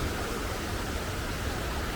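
Steady broadband rushing of a fast-running river, a continuous even roar with no pauses, heard alone without voices.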